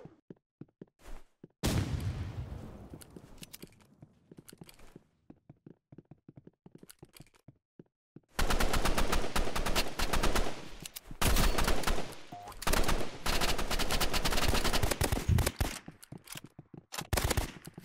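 Gunfire in the Roblox game Rivals: scattered single shots, a long quiet gap, then loud, rapid machine-gun bursts in close succession, broken by short pauses.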